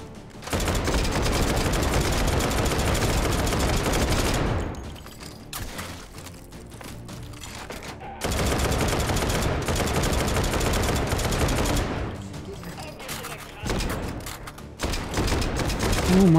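Gunfire in the VR shooter Hot Dogs, Horseshoes & Hand Grenades on HTC Vive: long, loud bursts of rapid automatic fire in two sustained stretches and a shorter final one, separated by quieter gaps with mechanical clatter.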